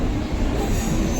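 Heard from inside a Mumbai local train running toward Dadar and CST, a loud, steady rumble of wheels on rails carries a squealing, grinding edge. No voices are heard.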